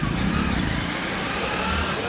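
A vehicle engine runs loud and close throughout, a steady rumble with a slight rev near the start and no clear separate start-up moment, on a trip up a hill near a village.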